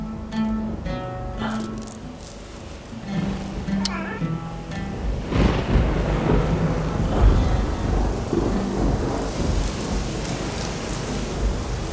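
Rain falls heavily during a thunderstorm, a loud dense wash with low rumbling that builds after a few seconds of music and voices at the start.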